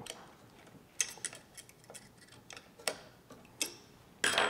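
A 2.5 millimeter hex wrench snugs bolts on a quadcopter camera rail, making a handful of small, sharp metallic clicks and ticks at irregular intervals, close by in a quiet room.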